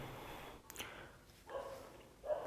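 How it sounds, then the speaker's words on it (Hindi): Dogs barking outdoors, a few faint, distant barks set against a low background hum. "कुत्ते भौंकने लग गए बच्चों"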